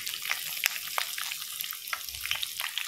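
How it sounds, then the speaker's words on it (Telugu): Green chilies fry in hot oil with cumin seeds while tempering for amla pulihora. Close, crackly sizzling pops out irregularly over a soft frying hiss, and no one speaks. "మిర్చి వేస్తున్నాను,"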